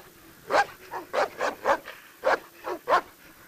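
Kuvasz dogs bark in a quick series of about nine sharp, fairly close barks with short gaps, some thinner and more yelping in tone.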